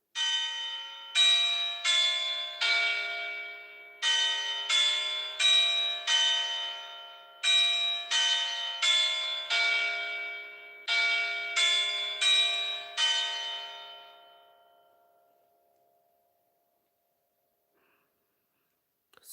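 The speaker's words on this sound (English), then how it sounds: "So this is where the old bells has come from." Old bells in a Roblox video game ring out clearly in rhythmic groups of bright metallic strikes, each tone ringing on, before the last peal decays into silence.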